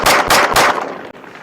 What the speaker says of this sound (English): This is a newer Turkish-made pistol on the market. The Canik Prime, same ammo.